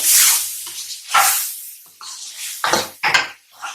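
Utensil scraping and clinking in a pan while masala is stirred into tori (ridge gourd) sabzi with fresh coriander, several short close scrapes and taps with brief sizzling hiss between them.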